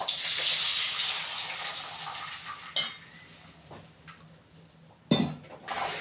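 A pot of water is poured into a pan while making rava upma, producing a loud, bright splash at first that fades into a hiss, then a couple of short clinks of utensils.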